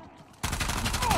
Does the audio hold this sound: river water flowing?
no